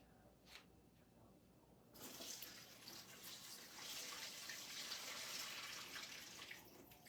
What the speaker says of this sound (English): I'm going to drain this juice.